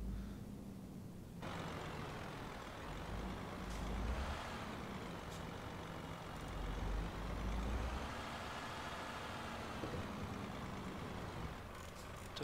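A truck with a Krone Mega CoolLiner reefer trailer in Euro Truck Simulator 2 rolls around a corner. A low engine drone rises and falls steadily at moderate volume over a hissing road and cabin bed, with no voices.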